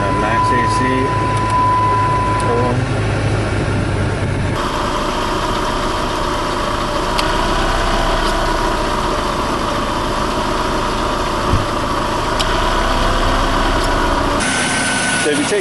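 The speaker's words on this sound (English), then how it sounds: "the AC compressor is kicking on and off" A car engine idles steadily with the air conditioning set to maximum while a refrigerant-low AC compressor cycles on and off, giving abrupt shifts in the engine's drone at about 4.5 and 14.5 seconds, with faint talk at times.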